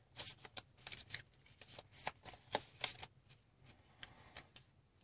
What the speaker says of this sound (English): We take all of our development cards and shuffle them.